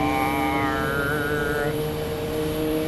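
Boeing 737 Max 8 airliner at Phoenix Sky Harbor Airport, its jet engines giving a loud, steady roar with a whining tone that bends downward partway through, close by and continuous.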